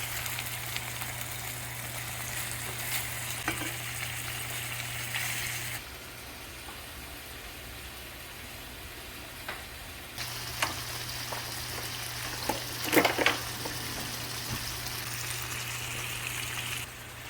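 Chicken breasts brown in a hot pan, a steady sizzle running throughout with a low hum beneath, easing briefly midway, plus a few clicks and scrapes of a utensil turning the meat.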